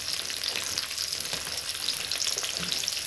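Onions frying in a pan for chicken chopsuey, a dense, even sizzle with crackling spits, close and steady throughout with no voices.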